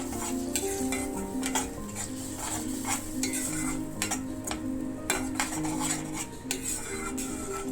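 Tomato paste and onions stirred in a pan for chicken pasta, a spoon scraping and clinking against the metal in quick irregular strokes over a low steady sizzle, close and alone.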